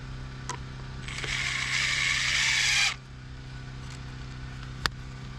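A power drill drives screws into wood to repair a cabin corner chewed by animals, giving one sustained whirring burst of about two seconds, with a few clicks and a sharp knock later.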